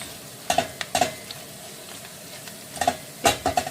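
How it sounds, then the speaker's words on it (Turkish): Dry red peppers dropped into tomato paste frying in a pan for a spinach dish, giving a few short sizzling bursts and stirring clatters at close range over a quiet background. "kavrulan salçamızın üzerine kuru kırmızı biberlerimiz var. Onları ekliyoruz."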